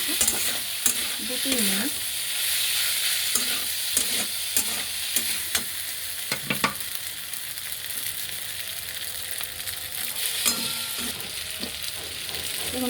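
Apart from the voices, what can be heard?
stirring pasta in a pan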